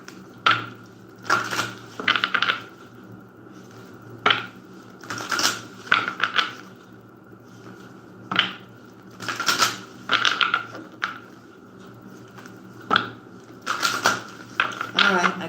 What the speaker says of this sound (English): So I'll give you a moment while I shuffle.